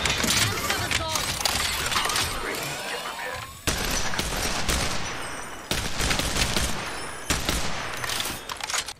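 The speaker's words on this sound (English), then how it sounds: "Some guns are shooting at me." Rapid, dense gunfire from Apex Legends, with sustained bursts of shots and sharp cracks that break off abruptly and restart several times at close range, loud and continuous.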